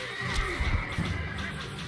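A horse neighs amid battle noise in Stronghold Crusader, a whinny rising over a low rumble of clashing units and hooves, with game voices nearby.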